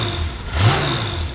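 A Porsche 964 fitted with a custom titanium GT2RS exhaust gives a single short rev that swells and fades over a steady idle, close by and fairly loud, with no talking.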